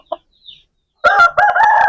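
An Aseel rooster crows nearby, loud and clear, a single drawn-out call after a couple of faint clucks.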